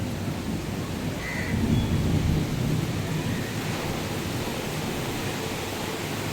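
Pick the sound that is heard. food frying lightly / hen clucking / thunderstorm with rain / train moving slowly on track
thunderstorm with rain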